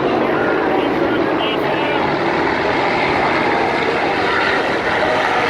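Four 100-year-old motorcycles with no brakes race around a track at about 80 to 85 mph. Their engines make a loud, continuous roar that never lets up, and a commentator talks over the noise.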